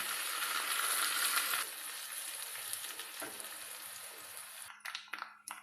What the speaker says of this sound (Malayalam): കടുകിട്ട് കൊടുക്കുകയാണ് ഉള്ളി ഇട്ട് കൊടുക്കുക പച്ചമുളക് ഇട്ട് കൊടുക്കുക കറിവേപ്പില ഇട്ട് കൊടുക്കുക